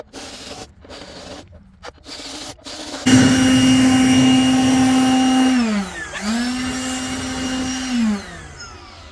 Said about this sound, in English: it's a bigger bit, more aggressive. It's going to cut through it really quick and out of control if you try to do it fast.